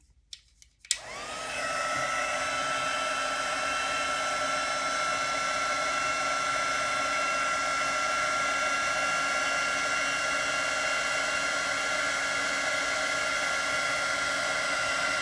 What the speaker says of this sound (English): once you get the heat gun warmed up, it goes a lot quicker